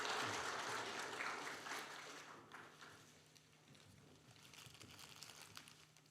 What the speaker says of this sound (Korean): 다시 한번 박수하시겠습니다.